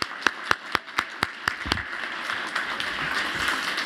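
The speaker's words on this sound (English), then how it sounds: "Let's give him a round of applause." At a HUD Veterans Day ceremony, a few loud, evenly spaced single claps ring out close by, then give way to softer, continuous applause from the audience.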